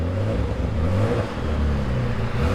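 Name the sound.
Audi B5 with GT28 turbos engine revving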